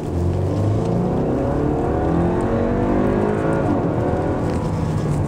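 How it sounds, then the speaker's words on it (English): A 2020 Audi A4 with the upgraded 45 powertrain of 248 horsepower accelerates from a stop sign, its engine note loud and steady as it climbs through the gears under road noise inside the cabin. "pulling up to a stop sign here, we've got an opportunity for some acceleration. Let's see what the upgraded 45 powertrain can do"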